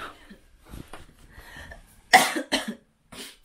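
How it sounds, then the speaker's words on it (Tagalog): Dry cough from a woman recovering from COVID, heard as a few sharp close coughs after some faint breathing and throat sounds, with brief pauses between them. "May ubo pa rin ako ngayon."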